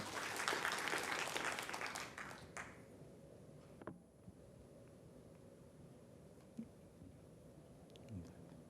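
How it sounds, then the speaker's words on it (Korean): Audience applause in a lecture hall at a public talk event, a loud burst of clapping for the first two and a half seconds that quickly dies away into quiet room tone with occasional small knocks. "박수 한번 다시 보내주시겠습니까?"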